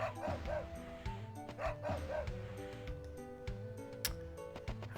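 Repeated yapping dog barks from the PS1 video game Wild Arms, with several quick bursts over looping game music.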